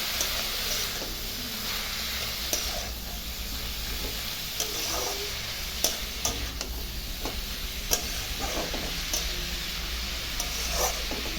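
Cabbage cooked with turmeric, salt and spices is stir-fried in a pan, a constant close sizzle and hiss punctuated by repeated scraping and tapping of the spatula.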